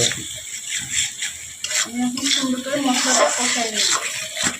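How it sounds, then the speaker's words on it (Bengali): Spice paste sizzles and is stirred in a pan while chicken curry is cooked, a continuous frying hiss with scraping strokes, and someone talks over it in the latter half. "এখন আমি মশলাটা সুন্দর করে কষাই নেব"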